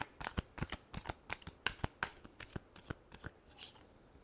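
Tarot cards shuffled by hand during a reading, a rapid run of about a dozen crisp papery riffles and slaps, close and fairly quiet, with no voices.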